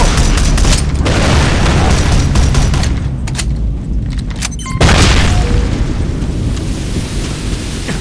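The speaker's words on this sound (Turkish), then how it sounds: "Dikkat bomba!" A bomb blast in the video game Hounds: The Last Hope booms loudly and close, followed by rumbling debris and a second surge of roaring noise that fades into a dense background.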